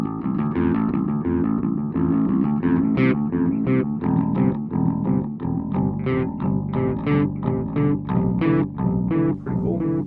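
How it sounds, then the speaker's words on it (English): Electric guitar through a budget £30 amp with the echo effect turned fully up, a rapid run of distorted picked notes with repeating echoes trailing behind, loud and continuous with no talk. "we're going to use echo"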